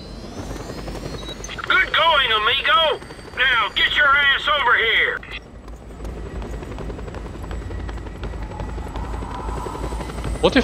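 Helicopter in the video game Just Cause 2 gives a steady rotor and engine drone throughout, with voices talking over it in bursts.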